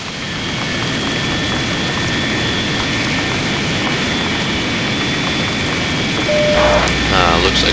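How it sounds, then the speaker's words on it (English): In the Lock On flight simulator, the left jet engine of an Su-27 starts up. A loud, steady, rushing engine roar carries a sustained whine and holds evenly throughout, with a brief shift in tone near the end. "Starting the left engine."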